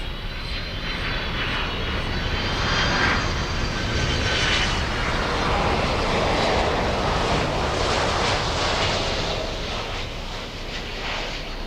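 A Boeing 747 airliner at Miami airport roars with a loud, steady engine rumble that holds throughout, swelling slightly in the middle with no speech.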